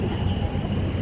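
An MRT train rolls past close by, a loud steady rumble of wheels on rail with a faint high squeal running through it and no voices.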